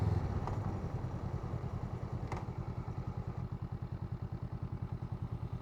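A Honda Rebel 500 motorcycle rides in the mountains with a steady, loud engine drone and fast rhythmic thumping and clatter throughout, close to the mic.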